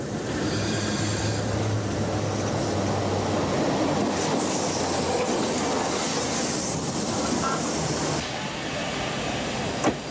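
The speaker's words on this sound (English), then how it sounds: "The trains have approached the platform." A steam train in Poland rolls into a platform with a loud, continuous rumble and clatter of wheels, a faint squeal and a brief clunk near the end.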